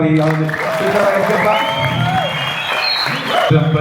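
Audience applause at a TikTok academy launch event in Ethiopia, a steady wash of clapping mixed with crowd noise and voices talking over it throughout.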